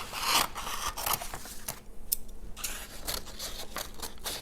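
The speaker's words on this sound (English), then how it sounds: "Again, I'm cutting away from my body." Close-up scissors cut paper with repeated sharp snips and scraping rustles, a brief pause midway, no talking.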